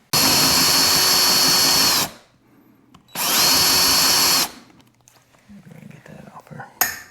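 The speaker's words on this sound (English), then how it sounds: "we're going to drill this pop rivet out right here" A power drill bores out a pop rivet through a sponson on a Yamaha SuperJet four-stroke watercraft. It gives two loud, steady whining bursts of about two seconds each, separated by a pause, with faint background voices and handling noises afterward.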